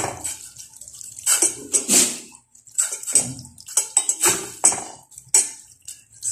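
Cooked shirataki noodles drain in the kitchen, with water splashing and pouring in uneven bursts, light clinks of a pan or utensil, and brief pauses between pours.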